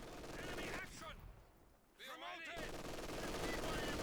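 Artillery barrage in Company of Heroes 2, a loud dense run of blasts and rapid gunfire-like bursts with a brief lull before the rumble returns, dense battle noise and in-game voices throughout.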